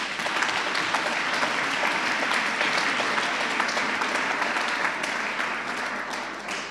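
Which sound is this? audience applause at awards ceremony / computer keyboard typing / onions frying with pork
audience applause at awards ceremony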